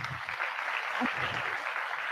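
An audience applauds after a talk at a privacy event, a steady, even wash of clapping throughout, with a voice speaking faintly underneath.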